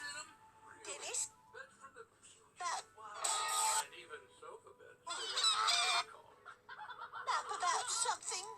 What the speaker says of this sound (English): The birds are coming!